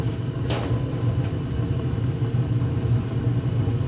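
A gas furnace runs at low speed with its burner lit, giving a steady low droning hum and rumble throughout, with two faint clicks early on.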